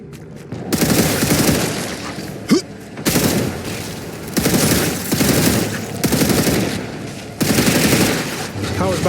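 Sustained automatic gunfire bursts in the sci-fi game StarRupture as pods on a generator are shot apart, loud dense volleys repeating in several long bursts with brief pauses and a sharp thump between.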